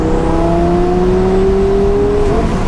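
Engine of a 1106 whp twin-turbo Lamborghini Gallardo pulls steadily, a continuous loud drone whose pitch rises smoothly for about two seconds before easing off, heard from inside the car with no talking.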